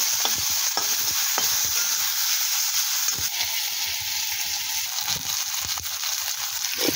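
Slit green chilies fry in hot oil in a pan for home-made chow mein, giving a loud, steady sizzle and crackle throughout, with occasional stirring scrapes and no talk.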